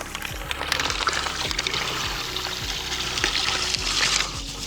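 Salt and fresh water pouring in a steady, dense stream to mix about ten litres of fish brine, loud and continuous, with faint trickling texture throughout.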